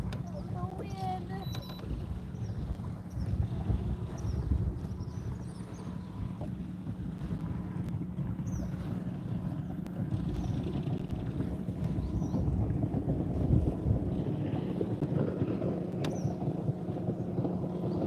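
Wind buffets a fishing boat out on a lake, making a steady low rumble and roar that fills the whole stretch, with faint higher chirps coming and going above it.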